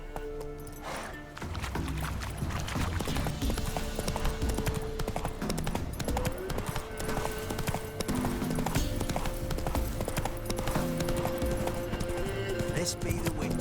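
Roach the horse's hooves clip-clop steadily in The Witcher 3, a continuous rhythmic trot under game music, with a voice speaking over it and an occasional whinny.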